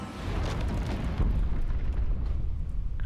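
Earthshatter spell in the strategy game Age of Wonders 4 sets off a deep, rumbling explosion, a heavy low boom that swells and sustains with gritty debris noise before slowly fading.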